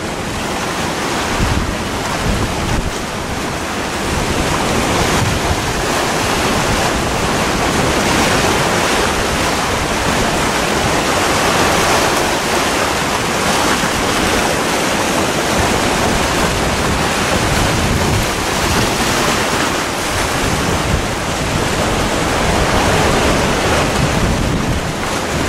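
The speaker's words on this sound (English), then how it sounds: "And the big waves are breaking." Rough sea with big waves breaking on the shore in strong wind, a loud, continuous roar of surf with wind buffeting the microphone throughout, no voices.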